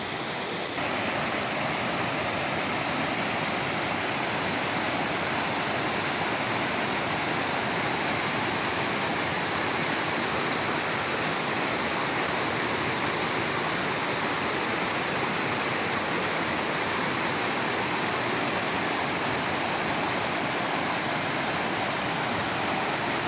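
A waterfall on a tributary of the Río Negro near Monte La Boya, a steady, loud, broadband roar of falling water that holds constant and close throughout, with no voices.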